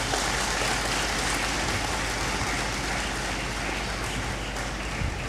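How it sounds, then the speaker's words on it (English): Audience applause in a university great hall during a matriculation ceremony, a steady dense wash of clapping from a large crowd that holds evenly for the whole stretch with no speech over it. "A big clap for Isaac once again"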